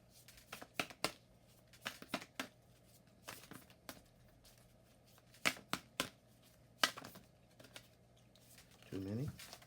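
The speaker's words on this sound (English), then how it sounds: "I've got way too many cards, so I will continue to shuffle" Cards shuffled in quick bursts of riffling and snapping, several separate rounds with pauses between, close and fairly quiet.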